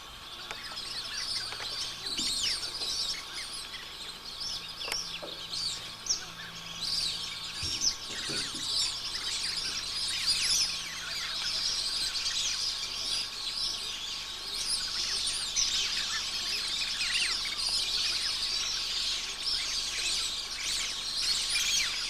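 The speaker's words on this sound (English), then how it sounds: "you can hear the whistling, that is actually the whistling ducks" Busy outdoor chorus of high whistling calls from whistling ducks at a lily-covered billabong, many overlapping and continuous, steady at moderate loudness with no voices.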